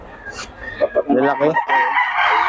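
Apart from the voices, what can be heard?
rooster crowing, a stag (young gamecock)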